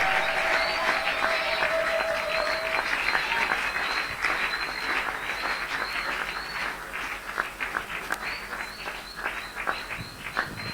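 A church congregation claps steadily with scattered cheers, the applause thinning toward the end into sharper individual claps.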